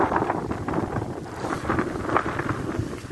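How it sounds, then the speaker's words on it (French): Wind gusting across the shore of Serre-Ponçon lake in the Hautes-Alpes, a steady broadband rush buffeting the microphone with swelling gusts throughout, close and fairly loud, with no voices. "Il y a du vent"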